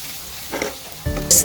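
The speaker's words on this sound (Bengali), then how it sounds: "প্রথমে বুকের মাংসগুলো ছোট করে ভেজে নিলাম এরপর আলুগুলো ভেজে" Potatoes fry in a pan after boneless chicken breast pieces, giving a short, close crackling sizzle with a couple of brief stirring bursts.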